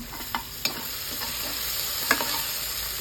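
Chopped green chilli, garlic and ginger frying with browned onions for a breadfruit curry, a soft continuous sizzle broken by a few spoon knocks against the pan; no talk.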